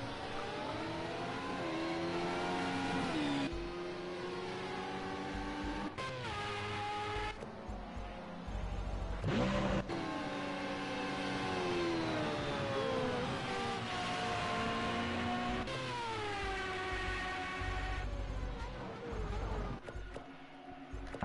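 Historic racing cars from the AllComers Formula race at Silverstone Classic scream past, engines rising and falling in pitch as they close in and pull away, loud and continuous with brief gaps between passes.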